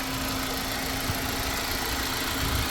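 A 2013 Mercedes-Benz C250, just back together after an oil filter housing replacement, idles steadily with a constant low hum and faint mechanical vibration, close and uninterrupted.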